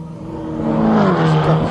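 A VW Scirocco R-Cup race car engine drones and climbs in pitch on a wet track, a loud, close, steady rising whine over a brief stretch.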